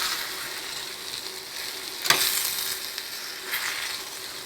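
Masala cooks on low flame in a kadai with a soft, steady sizzle, and a spoon scrapes the pan once sharply midway and again more lightly later; no one speaks.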